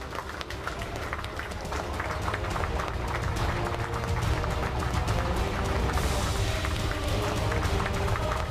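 An audience at a Marathi television serial's award ceremony gives dense, sustained applause, many hands clapping steadily and loudly throughout with no pause.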